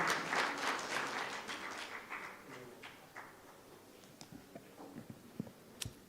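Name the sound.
applause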